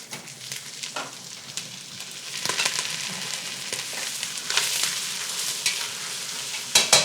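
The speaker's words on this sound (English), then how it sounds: "So we'll give that a stir. We'll add all our herbs, and we'll put some honey in there." Herbs and honey stirred in a sizzling frying pan as they caramelize, a steady close frying hiss with scraping strokes of the spoon throughout, no talking.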